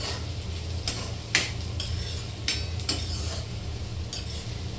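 Onions frying in a pan, a steady soft sizzle punctuated by several sharp scraping strokes of a spatula stirring against the pan, close and moderately quiet.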